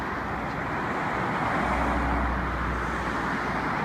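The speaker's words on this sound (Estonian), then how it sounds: "Siin läheb see liiklus hästi valjuks" Steady road traffic near a bridge in Stone, a continuous broadband roar of passing cars with a low engine hum swelling midway, fairly loud and unbroken, with no talk.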